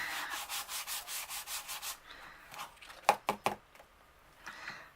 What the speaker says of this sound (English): So I'm just going to use my embossing buddy.